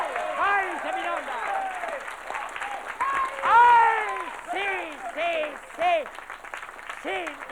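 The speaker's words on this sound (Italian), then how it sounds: "lasciatemi godere questi applausi" Studio audience applause on a 1982 Italian satirical TV show: steady clapping with a voice talking over it throughout.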